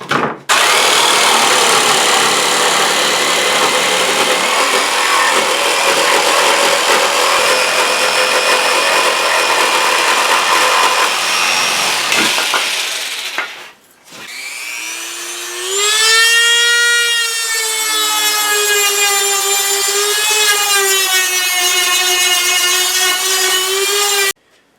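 A jigsaw cuts wood while a portable roll-away air conditioner is being vented: a harsh, steady buzzing cut runs for about thirteen seconds, stops briefly, then resumes as a whining motor tone that wavers in pitch, close and loud.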